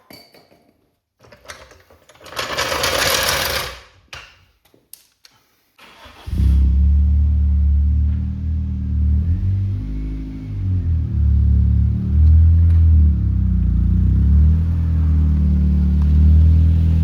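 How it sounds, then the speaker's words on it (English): A Toyota Corolla that had broken down and overheated starts after some brief clatter and hissing, then runs with a steady, loud low engine rumble and slight rises in pitch as it pulls away. "I might take the car for a little drive"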